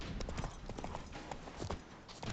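Horse hooves in The Witcher 3: Wild Hunt beat out a quick, rhythmic clip-clop of repeated thuds at a moderate distance, continuing steadily with no talk.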